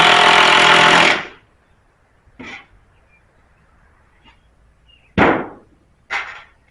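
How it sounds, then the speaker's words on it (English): A power drill countersinks screws into a wooden 2x3 chicken tractor frame: one long loud whir, then several short separate bursts with quiet gaps between them. "I countersink the screws a little bit more."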